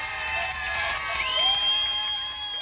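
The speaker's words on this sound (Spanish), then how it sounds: "un aplauso para esta pareja" Studio audience on a TV show claps and cheers for a couple, mixed with whoops and bright tonal sounds, moderately loud and brief.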